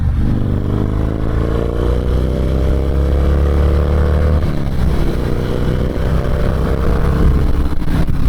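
Harley-Davidson Dyna Low Rider S motorcycle accelerating up a highway on-ramp, its engine loud and close with a steady roar and rising pitch through the gears, wind noise over a continuous drone.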